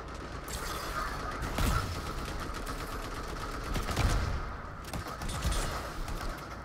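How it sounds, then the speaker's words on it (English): Rapid gunfire in the video game Anthem, bursts of shots and mechanical clatter rattling continuously over a dense noisy backdrop, with sharper cracks standing out near the middle and end. "I'm being shot at."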